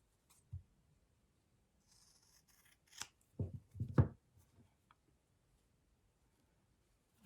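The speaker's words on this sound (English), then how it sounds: "Now for the tunic, I will trim the sides." Scissors snip through fabric while trimming the sides of an elf tunic for a Christmas ornament, a few quiet cuts bunched in the middle with near silence around them.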